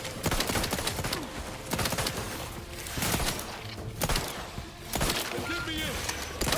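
Gunfire in the video game Outer Worlds 2, a dense stream of shots and impacts with repeated bursts and brief pauses, mixed with game effects and some voice.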